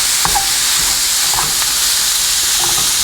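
Ground hamburger sizzles steadily in a hot skillet, a constant frying hiss with faint scraping stirs from a chopper breaking the meat up at intervals.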